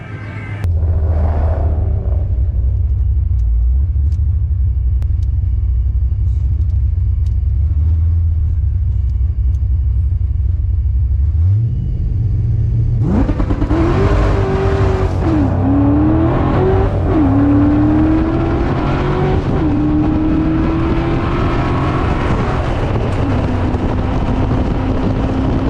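Drag car at PIR idling with a low, deep rumble, then launching hard. A loud, rising engine roar with quick gear-change dips follows, heard from the upper deck with wind noise on the microphone.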